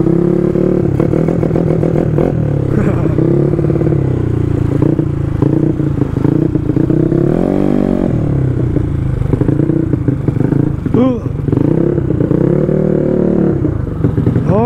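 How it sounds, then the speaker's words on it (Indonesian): A Yamaha Mio scooter bored out to 200cc at about 25 HP roars loudly and continuously during a test ride, with its pitch rising and falling as the throttle is worked. Close, engine-dominated and without talk. "Kira-kira seperti ini untuk test ride Mio 180 saat 200 cc nya si Randy Satya."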